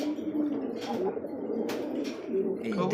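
A single male pigeon, held in the hand, gives low cooing calls close up, a few murmuring phrases with faint background chirps.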